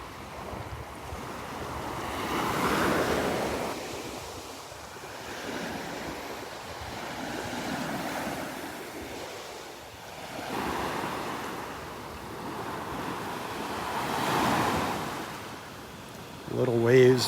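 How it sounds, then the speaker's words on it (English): Small waves roll onto a beach at Delnor-Wiggins in slow, repeated swells of surf, with wind noise rumbling across the microphone between the soft crests. "Little waves rolling in."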